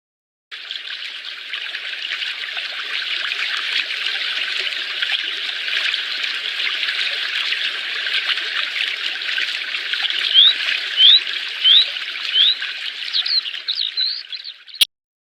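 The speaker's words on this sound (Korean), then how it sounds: "선생님은 무언가 물이 졸졸졸 흐르는 소리를 들은 것 같아요." Water trickles and babbles steadily, a bright continuous flow, with a few faint bird chirps near the end before it cuts off abruptly.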